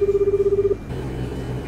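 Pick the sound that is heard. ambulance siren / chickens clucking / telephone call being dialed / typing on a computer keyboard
telephone call being dialed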